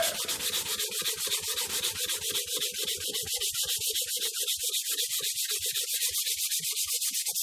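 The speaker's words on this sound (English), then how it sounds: "This stuff even sands easier than the sanding sealer that I was using for the lacquer." Steady, rhythmic sanding strokes rubbing back and forth across a smooth nitrocellulose lacquer finish on a mandolin, close and continuous with a hissy, scratchy texture.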